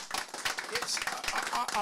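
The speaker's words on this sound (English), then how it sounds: "Round of applause." Scattered clapping from a small group breaks out at a boxing press conference, a brief, uneven patter of hands heard close, with speech mixed in.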